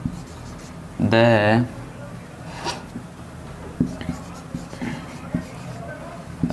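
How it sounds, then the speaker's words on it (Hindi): An English grammar example is written by hand during a lesson, giving a run of short scratchy strokes just after a brief spoken syllable. The strokes continue at a moderate level. "एक और एग्जांपल लिखता हूँ मैं"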